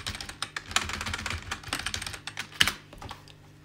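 Computer keyboard being typed on, a quick irregular patter of soft close key clicks over a few seconds with no voices.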